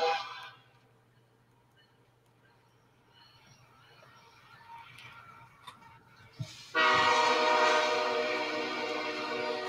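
A train rolls past with its horn blowing, a distant rumble at first, then a sudden loud, sustained horn blast near the end, with a steady low hum throughout.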